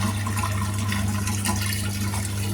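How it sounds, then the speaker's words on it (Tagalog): Steady rushing water pouring out continuously from an LG top-load washing machine draining, a constant low hum beneath the flow, with no pauses across the clip. "So, nagtatapon siya ng tubig para sa drain."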